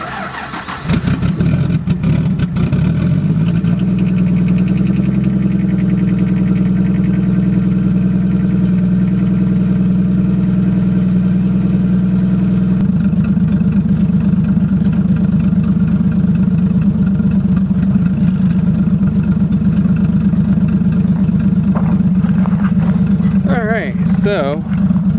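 A car being warmed up before a drift event, its engine starting and then idling steadily and loudly for the whole stretch, with a rough, uneven tone that shifts partway through; no talking over it.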